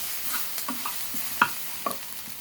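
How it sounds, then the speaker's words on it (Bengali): Spiced food with chili powder and coriander powder being stirred in a frying pan, quiet scraping strokes and soft sizzling with a couple of sharper clinks, no talk. "নেড়ে চেড়ে নেব।"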